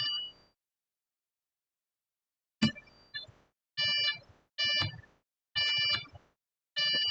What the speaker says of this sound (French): C'est le buzzer qui est là, qui nous alerte de quelque chose.